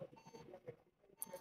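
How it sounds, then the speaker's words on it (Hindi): HP Compaq Elite 8300 desktop emitting a run of short, faint electronic beeps at power-on, repeated in an even rhythm before it shuts off with no display. "5 दफ़ा बीप दी है इसने"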